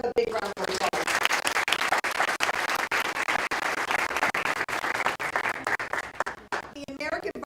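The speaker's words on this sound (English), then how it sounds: "so let's give them a big round of applause." An audience at a Law Day courtroom event gives steady applause, a dense crackle of many hands clapping for several seconds, with a speaking voice briefly at the start and again as the clapping ends.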